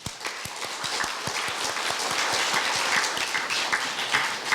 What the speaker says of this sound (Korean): 예, 박수로 맞아주시죠.